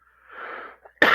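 A person gives a short, breathy cough or wheeze that rises and fades. A sharp, loud burst follows, like a sneeze or a harder cough, with no talk around it.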